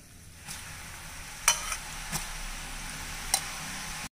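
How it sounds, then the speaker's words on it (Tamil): Murukku spirals sizzle as they are lowered into hot groundnut oil, giving a steady soft frying hiss with a few sharp pops and clicks scattered through it. No voices are heard. "இப்போ நம்ம சுற்றி வச்ச முறுக்குகளை சேர்த்துடலாங்க."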